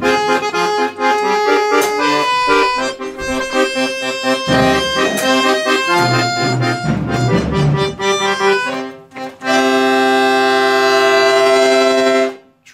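A loud voice mimics a French police two-tone siren, holding long wailing notes that alternate in pitch, close and strained, with brief breaks between blasts.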